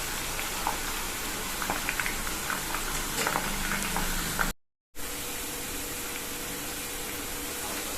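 Potato chips frying in hot oil give a steady, dense sizzle with fine crackling bubbles, interrupted by a brief silent gap before the frying continues.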